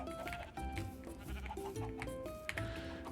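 Minecraft sheep bleat repeatedly over a steady bed of tonal game music, the calls close and clear across a few seconds.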